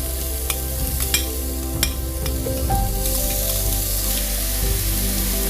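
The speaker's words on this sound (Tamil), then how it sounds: "இப்போது நம்ம சாப் பண்ணி நறுக்கி வச்சுக்க வெங்காயத்தை சேர்த்துக்கிறோம்." Chopped onions hit hot oil with fennel seeds in a pan for egg kuzhi paniyaram gravy, giving a steady, close sizzle with scattered stirring clicks and scrapes throughout.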